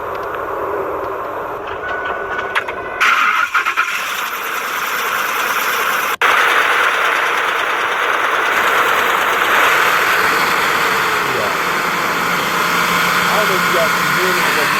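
A Ford 5.4 truck engine idles steadily and loudly throughout, with a rough, knocking undertone and some brief handling noises near the start.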